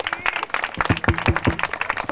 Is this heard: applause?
yes